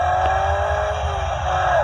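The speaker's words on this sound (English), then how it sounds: "this is just mimic, you know, the engine start." A Lexus LC500 ride-on toy car plays a simulated engine-start sound through its speaker, a brief steady revving tone with a rising and falling pitch, close and without talk.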